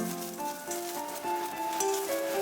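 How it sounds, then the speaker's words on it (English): Dried chilies sizzling in hot oil in a wok for Gong Bao chicken, a steady close crackle with no talking, sustained at an even level throughout. "Then add in the dried chilies"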